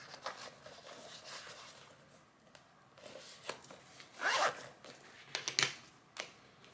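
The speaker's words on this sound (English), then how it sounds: "then you have a zip compartment in the back" A zipper on the back zip compartment of a light pink lambskin Chanel mini top handle bag gives short, faint, close rasping pulls among small handling rustles.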